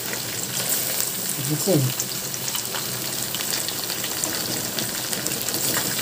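Fish deep-frying in plenty of oil in an electric curry cooker, a steady close sizzle and crackle throughout, with a brief voice speaking over it.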